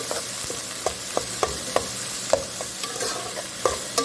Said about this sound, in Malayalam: ഇതിലേക്ക് ഉള്ളി ഇട്ടിട്ട് ഫ്രൈ ആക്കി എടുക്കാം.